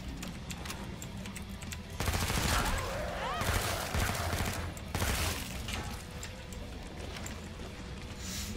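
Rapid gunfire bursts and explosions from the video game Killing Floor 2, loud and dense, with a heavier stretch of shooting in the middle and a few faint voice shouts.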